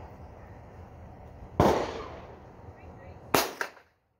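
Two sharp, loud gunshots ring out at an outdoor shooting range on a wet day, spaced a couple of seconds apart, each with a quick echoing tail over steady background noise.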